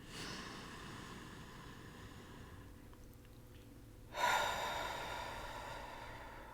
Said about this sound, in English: take a nice deep breath in